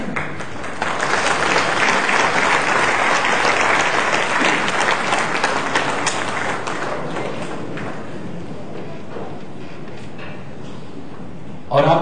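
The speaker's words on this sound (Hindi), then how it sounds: "आपकी ऐसी जबरदस्त तालियों के बीच" Enthusiastic audience applause at a national media conclave, a dense, loud wash of clapping that swells for several seconds and then gradually thins, with murmuring voices mixed underneath.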